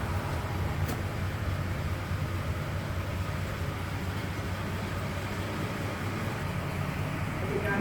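A 1936 Ford Sedan Delivery engine idling, a steady low rumble that holds evenly throughout with no change in pace and no talking.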